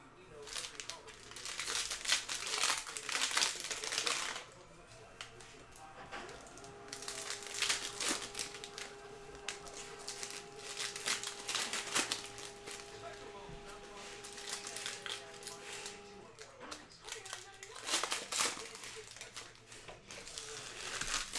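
A paper printout of a list for a cello card pack break crinkles and rustles in bursts while being handled, with a steady tone running underneath and a person speaking at times.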